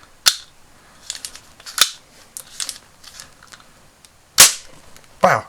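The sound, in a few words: toy cap firing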